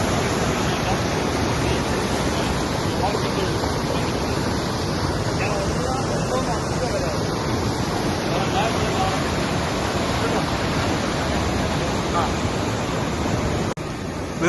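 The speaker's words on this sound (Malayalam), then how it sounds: "വെള്ളത്തിന്റെ പവർ ക്യാമറയിൽ കാണുന്നതിനെക്കാട്ടിയും നല്ല പവറിലാണ് ഇവിടെ വെള്ളം ഒഴുകുന്നത്" Powerful water rushing through a dam, a loud, dense and unbroken roar that stays steady and close for the whole stretch, with no other sound standing out.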